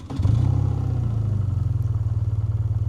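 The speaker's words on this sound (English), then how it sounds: "I'm going to hit the on button now for this engine" A BMW R12 nineT motorcycle engine cranks and catches, then settles into a loud, steady, throbbing idle with even low pulses, close up and alone.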